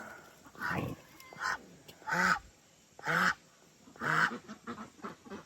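A Pekin duck gives three loud, raspy honking calls at a steady pace, with softer quacks and rustling in between, close by.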